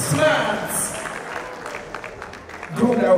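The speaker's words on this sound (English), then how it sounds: "Please, a round of applause for his handsome, smart" Guests at a traditional wedding in Houston clap in a short burst of applause mixed with an announcer's amplified voice, moderately loud and partly covered by the speech.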